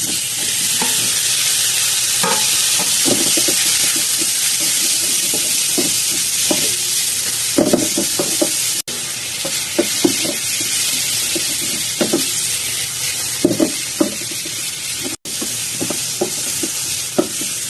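Tomatoes sizzle and hiss steadily in a hot wok, with repeated scraping and clacking of a spatula as they are stirred, close and continuous.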